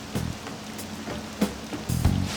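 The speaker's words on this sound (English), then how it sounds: "This rain ain't too bad." Steady light rain falls in Persona 5 Royal, a soft continuous patter with a few louder footstep-like knocks and thuds breaking through, no talking over it.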